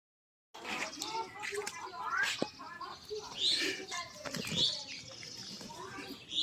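A pigeon held in someone's hands flaps its wings in short, scrambling bursts, with occasional bird chirps and people talking close by throughout.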